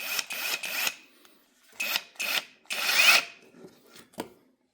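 Hypertough brushless power tool from Walmart busting loose a nut, giving several short bursts of whirring, rattling drive that stop and start in an uneven rhythm, close and fairly loud, with no talking.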